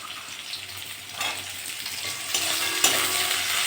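Chickpeas and onions frying in a pan give a steady, close sizzle with hissing crackle that swells a little toward the end, and no voices are present.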